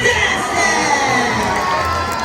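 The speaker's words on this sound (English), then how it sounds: "Another round of applause for Yeren!" An audience at a sea lion show in an ocean park cheers and shouts loudly, with children's voices prominent in a dense, continuous crowd roar.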